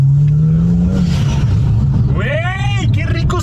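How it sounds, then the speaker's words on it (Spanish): A modified BMW engine, made louder by new mods, revs up to around 3000 rpm and is let off, its tone rising and then dropping. The sound is loud and close, with voices talking over it. "ya nada más revoluciono a 3000 y suelto"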